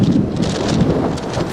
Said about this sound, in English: Very windy day in late autumn.